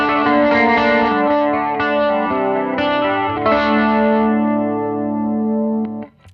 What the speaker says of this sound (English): We have a chorus on here.